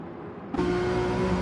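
Race cars on a hill circuit in Gran Turismo 7: a steady, loud engine drone that jumps up in pitch and brightness midway as a car accelerates or passes close, with no talking.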